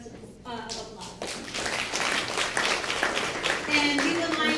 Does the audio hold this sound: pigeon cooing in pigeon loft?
no